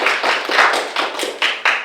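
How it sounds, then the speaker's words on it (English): A small group at a Rotary Club meeting gives a guest librarian sparse applause: a handful of distinct, close hand claps in an uneven rhythm, with short gaps between them. "so let's give her a round of applause."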